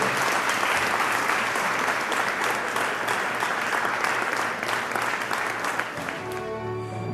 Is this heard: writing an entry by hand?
no